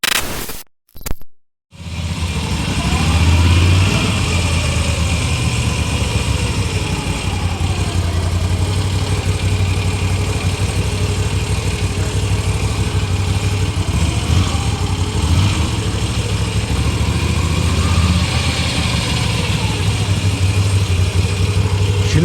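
A Moto Guzzi motorcycle engine starts after a couple of brief cranks and settles into a loud, steady, close idle with a throbbing low rumble that continues unbroken.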